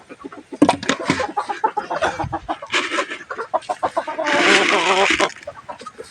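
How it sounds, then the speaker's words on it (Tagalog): Backyard chickens cluck close by, with busy overlapping bursts of clucks and squawks that carry on loudly throughout with no pause. "yung may mga chicken ako rito"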